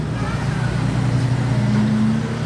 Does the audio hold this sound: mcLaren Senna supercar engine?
yes